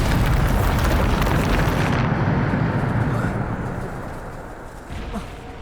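A loud Bombarda spell blast from the Hogwarts Legacy video game: a dense, roaring explosive burst that fills the opening seconds, then rumbles and decays into a lingering low wash.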